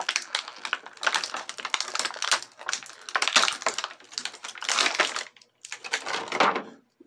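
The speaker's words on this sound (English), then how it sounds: "now let's go ahead and get the Bakugan out of the packaging" A Bakugan toy is pulled from its plastic packaging, with bursts of crinkling, crackling and clicking plastic that come in irregular waves and stop briefly before resuming, close and fairly loud.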